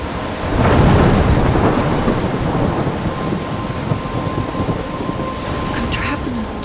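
A loud thunderstorm in the Life Is Strange video game: a heavy roll of thunder swells early, then dense rain keeps hissing steadily with wind, up close and with no talk over it.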